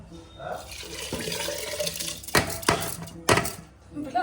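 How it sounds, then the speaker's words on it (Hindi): Potatoes and rice drop into a pot of fried spices with clattering and a few sharp impacts against the metal, while someone talks nearby in a home kitchen. "मसाला भुंज गया हमारा, अब डालेंगे इसमें आलू, अब डालेंगे चावल।"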